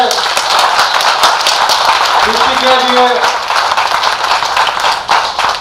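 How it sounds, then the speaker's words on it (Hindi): Audience clapping continuously and densely at a Hindi poetry recital, loud and sustained throughout, with a voice speaking over the applause. "तालियां बजाइए"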